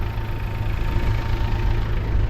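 Steady low rumble of a motorcycle engine idling nearby, continuous and even with no voices.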